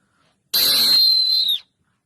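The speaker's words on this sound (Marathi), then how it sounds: "ती वाजवा तुम्ही शिट्टी" One loud, shrill whistle blast lasting about a second, sharp start and quick cutoff, with silence before and after, blown on a school trip.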